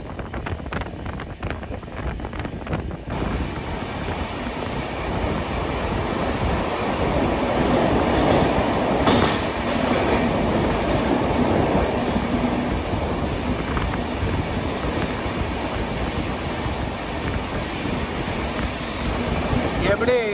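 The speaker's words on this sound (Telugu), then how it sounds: "దూరంగా చూడండి ట్రాక్ కనిపిస్తుందా, దానిపైన 3 లోకోమోటివ్లు వచ్చేస్తున్నాయి" A Mumbai LTT–Kakinada Port Express hauled by three locomotives approaches along the track, a loud continuous rumble and rush under heavy wind buffeting on the microphone, sustained throughout.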